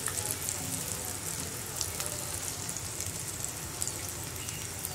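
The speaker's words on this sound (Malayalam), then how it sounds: "എണ്ണ നല്ല ചൂടായിരിക്കണം നമ്മൾ ഈ ഒരു മുട്ടയുടെ മിക്സ് വെച്ച് കൊടുക്കുമ്പോൾ" Brinjal slices coated in an egg mixture frying in very hot oil, a steady close sizzle with a dense crackling hiss that runs unbroken throughout.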